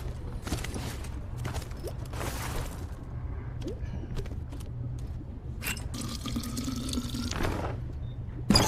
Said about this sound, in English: Fresh water.